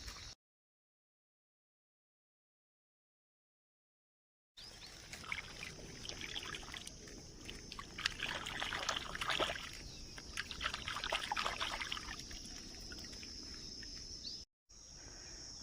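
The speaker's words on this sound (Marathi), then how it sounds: "आता ह्याला स्वच्छ आपण धुतलेला आहे झऱ्याच्या पाण्यामध्ये." A mango being rinsed in clear spring water at a village stream: a steady, close rush and splash of running water that starts abruptly after a silent opening and continues to the end.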